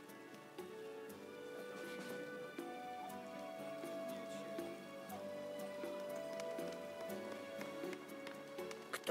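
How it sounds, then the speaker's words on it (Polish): Heavy rain pours down in The Witcher (2007) video game, a faint steady patter of drops with scattered ticks, under a soft sustained musical background. "Cóż za ulewa."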